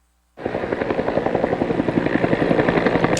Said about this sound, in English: helicopters are making their rounds, picking up and delivering water to the fire